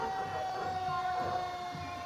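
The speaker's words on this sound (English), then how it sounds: "And the old red fire truck." An old red fire truck in the Rockmart Christmas parade sounds its siren, a faint, distant, steady wail carrying over the street.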